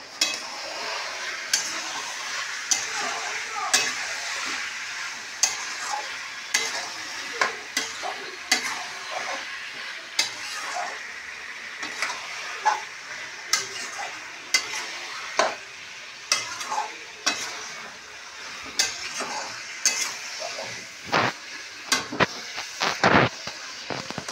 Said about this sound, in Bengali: এটা দিয়ে এবার একটু ভালোভাবে নাড়বো